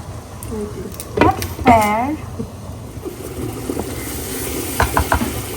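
A tomato goes into a hot frying pan and is stirred, giving a steady sizzle with scraping clinks of the spoon against the pan, while a voice speaks briefly over the cooking.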